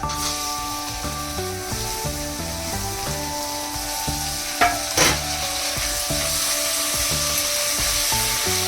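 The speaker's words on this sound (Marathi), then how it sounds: "टॅमॅटो पण चांगले परतून घेऊया" Tomatoes sautéed with softened onions for pav bhaji sizzle steadily in the pan with occasional stirring scrapes, close and continuous, while instrumental music with a rhythmic pattern plays underneath.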